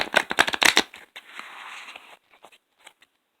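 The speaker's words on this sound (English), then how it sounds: "Shuffle one more time so I don't waste a lot of time." Deck of cards being shuffled up close, a fast burst of riffling flutters followed by softer sliding and a few scattered taps that fade into quiet.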